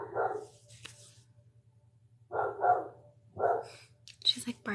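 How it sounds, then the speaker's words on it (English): A dog barks in short bursts just outside a door, several clipped barks spaced apart with a whimpering yip, moderately loud, over a steady low hum. "She's like barking right outside the door too."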